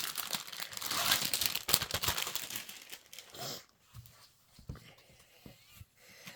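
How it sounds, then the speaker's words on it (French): Plastic crinkling and rustling while a silicone envelope is unpacked from a cross-stitch kit, loud and busy at first, then fading to a few scattered soft crackles, with no talk. "Alors, une enveloppe de silicone."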